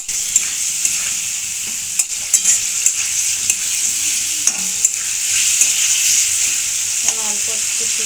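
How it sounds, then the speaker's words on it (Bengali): A spoon stirs and scrapes through fish curry in a hot pan, seasoned with salt, turmeric and green chili, with steady sizzling beneath a run of sharp scraping clicks. "এবার এটাকে ভালো করে নেড়ে চেড়ে"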